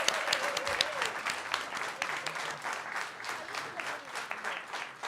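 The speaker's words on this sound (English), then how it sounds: "a round of applause for all of the people who helped make this happen today" Churchgoers at a Sunday service in December applaud the helpers, a moderate round of clapping with individual claps audible in the mix and a faint hum of voices beneath.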